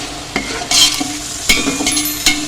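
Bay leaves, black peppercorns and whole cumin stirred in a pot for chana biryani, a few distinct scraping strokes of a spoon against the metal over a soft, steady sizzle, close and alone.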